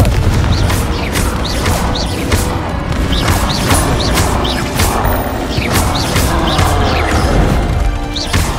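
Blasting spells explode again and again in the Hogwarts Legacy video game, a dense run of crashing booms and sharp bursts that pile up loudly over a constant roar of combat.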